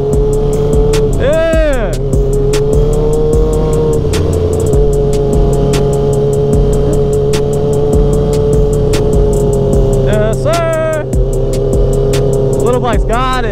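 A stock sport motorcycle idles loudly on a street during a motorcycle street meet. There are sharp rising revs near the start and again near the end, with a steady engine drone and crowd noise in the background.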